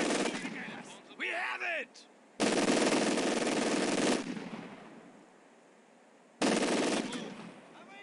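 An MG 42 machine gun fires long continuous bursts in the Company of Heroes 2 game, loud, dense and rattling, with a voice briefly shouting in between.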